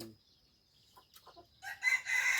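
A rooster crows near the end of the recording, loud and close, after a few faint clucks and small sounds in an otherwise quiet yard.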